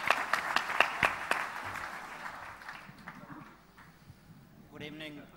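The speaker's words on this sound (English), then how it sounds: "round of applause, guys, for Ajay Data from Berry" Scattered claps from a modest crowd at a startup showcase event, a short run of distinct sharp hand claps that thins out and fades, followed by a voice speaking near the end.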